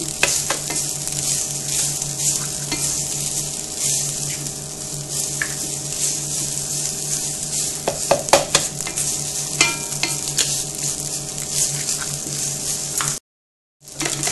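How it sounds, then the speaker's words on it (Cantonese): Four eggs are beaten in a bowl for omelette rice, a fast and steady scraping rhythm over a faint background hum. The beating runs for about thirteen seconds, then a brief silent gap. "依家先將4個蛋攪勻佢先"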